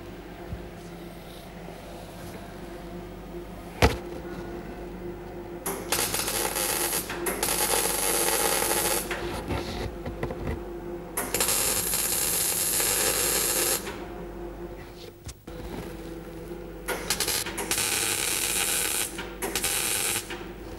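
Plug welding on a car body panel, the welder firing in bursts of sizzling, crackling arc noise separated by short quiet gaps, close and fairly loud with a sharp tap early on.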